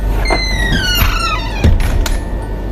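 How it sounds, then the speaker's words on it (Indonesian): A door pushed slowly open in a quiet building, giving a drawn-out creaking squeal with rising and falling tones and a soft bump near the end, close and fairly loud. "Perlahan demi perlahan pintu itu aku dorong seiring adrenalin yang terlontar keluar, hingga akhirnya pintu terbuka sempurna."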